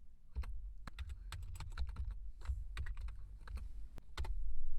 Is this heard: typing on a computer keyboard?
yes